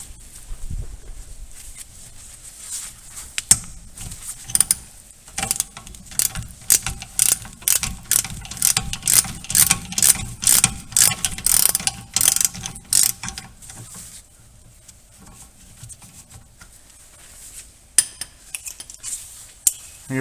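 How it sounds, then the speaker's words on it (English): Ratchet with a 13mm socket loosening brake caliper bolts on a rear wheel of a Volkswagen Golf Mk4, a loud close run of rapid clicking ratchet strokes in bursts with pauses, no talking. "Alright, get your 13mm socket. Then we'll go ahead and loosen this up here."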